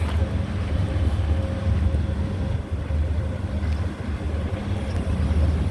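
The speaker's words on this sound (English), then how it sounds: "difficult to talk over the noise of the traffic." Dense city street traffic in Hong Kong: a constant low rumble of passing vehicles with gusts of wind across the microphone, loud and unbroken, with no voices.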